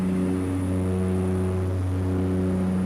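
Inside a small propeller plane flying home from a Solomon Islands dive resort, the engine drones with a steady, loud, buzzing hum, unbroken and close, with no voices heard.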